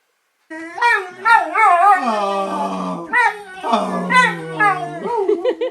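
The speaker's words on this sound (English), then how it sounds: "I've currently got 2 dogs, Yasmin and Elon." Dogs whimper and whine in long, wavering high tones, close by, with rising yips and howl-like cries overlapping throughout.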